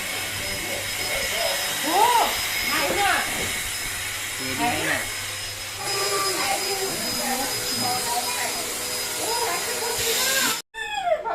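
A vacuum cleaner drones steadily during late-night Diwali cleaning, a constant hissing roar with people talking over it, cutting out briefly near the end.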